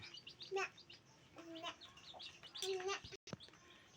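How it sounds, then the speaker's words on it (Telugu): A large country hen clucks softly several times in short bursts, close by, with quiet background chirps. "పెద్ద కోడి"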